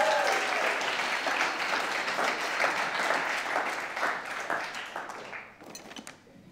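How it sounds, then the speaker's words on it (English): A church congregation breaks into a long round of applause, dense clapping that gradually thins into scattered individual claps before fading out. "Let's give Connor a round of applause."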